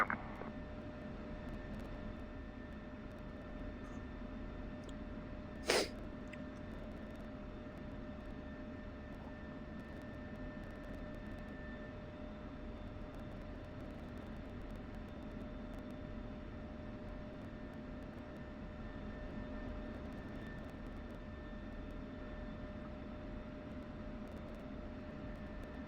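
Fighter aircraft engines in a military video game, a faint, steady jet drone with a constant whine that holds across the whole stretch, broken by one brief sharp click.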